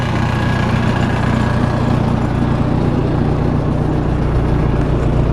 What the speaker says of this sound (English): 226 gasoline Allis Chalmers engine